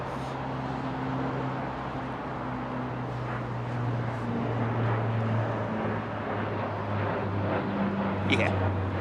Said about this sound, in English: Nippy little plane.